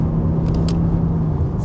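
A BMW 8-Series in sport mode holds third gear through its Steptronic transmission, giving a steady, loud engine drone with low rumble that runs continuously from start to finish.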